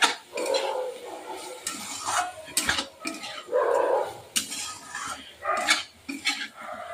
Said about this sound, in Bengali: চালটা দিয়ে বেশ 2 থেকে 3 মিনিট ভালো মতো এইভাবে নাড়াচাড়া করে নিয়েছি।